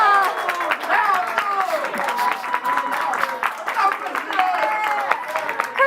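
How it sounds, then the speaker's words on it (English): A studio audience at a sports show cheers and whoops loudly in a dense, sustained burst, with bright shouting voices over scattered clapping throughout. "My audience is going to cheer for the loudest"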